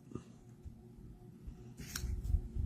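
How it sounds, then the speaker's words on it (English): Scissors cutting through a piece of scrap paper, quiet close snips and soft paper rustling over a couple of seconds, with no talk. "So I took and cut a piece of that."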